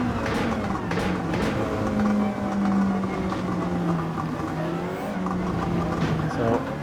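A race car engine in Gran Turismo 7 holds a steady, loud, droning roar at full throttle in fifth gear during a 24-hour endurance race, its pitch wavering slightly and never letting off.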